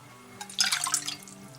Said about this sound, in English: And we'll pour that down into that saucepan.